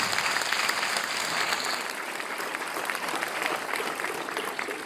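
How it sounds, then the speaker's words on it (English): Audience at an awards ceremony for a boys' final applauds steadily and loudly throughout, a dense wash of clapping with no pauses. "A big round of applause for Mokshini, ladies and gentlemen"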